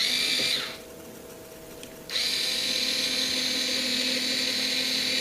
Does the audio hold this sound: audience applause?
no